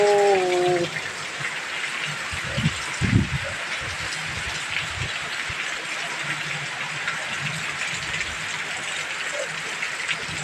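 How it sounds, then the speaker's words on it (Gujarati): Steady rain falls with a soft continuous patter, a few brief thuds and a short tonal sound at the start, no talking. "સરસ મજાનો વરસાદ પડી રહ્યો છે"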